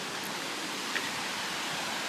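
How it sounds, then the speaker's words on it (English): Steady broadband rush of a waterfall heard from nearby, an even, unbroken roar with no voices over it. "Oh, there's the beautiful waterfall."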